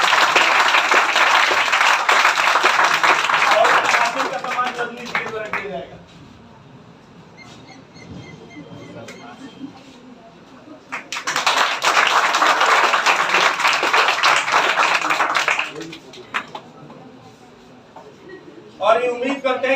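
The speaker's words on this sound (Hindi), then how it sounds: "इनके लिए जोरदार ताली" Two bursts of loud audience clapping honor a topper at a school award ceremony, with a speaker's announcement on a microphone between them and a short third round of applause starting at the end.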